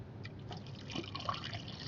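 Water poured into a car radiator trickles and drips softly, with a faint steady liquid splash and a small bright drip near the middle, quiet and close.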